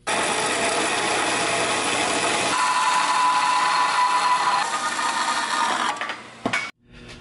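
A power tool cuts through Nissan 240SX lower control arms held in shop-made jigs, a loud steady grinding whine running for about six seconds before it winds down and stops, with no talking.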